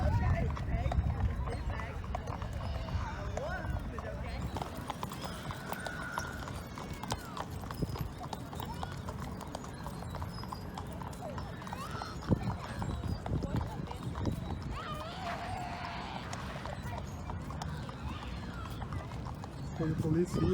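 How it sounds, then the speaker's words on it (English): Police horses walk on a city street in Brazil, their hooves clip-clopping in a steady, fairly faint rhythm amid street ambience, with voices talking over the sound. "Look at this. Beautiful horses."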